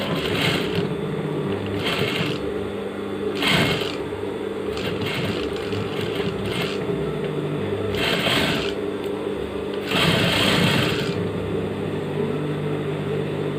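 A sewing machine stitches a shirt sleeve, running in loud mechanical bursts with short pauses between them and a steady whirring rhythm up close.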